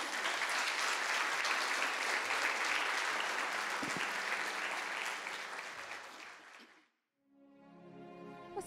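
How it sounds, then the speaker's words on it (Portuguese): A church congregation applauds loudly and steadily, a thick wall of clapping that fades away near the end, after which soft tonal sounds follow. "Vamos aplaudir o Senhor."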